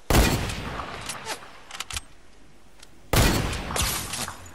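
Bursts of rapid video-game gunfire from a Fortnite arena duo match, loud and close, with a dense opening volley, scattered single shots, then a quieter lull before another heavy burst.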